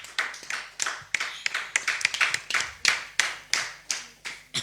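A church congregation clapping in steady rhythm, sharp hand claps repeating roughly twice a second, close and fairly loud, with faint voices underneath.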